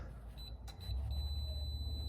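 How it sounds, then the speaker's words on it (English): A digital torque meter tightens an oil drain plug to 20 foot-pounds on a 3.6-liter JK/JKU Jeep Wrangler. Its thin, high electronic beeps come in a few short pulses and then settle into one sustained tone over a low background rumble. "digital torque meter that's gonna beep at me when I get to that 20 foot-pounds"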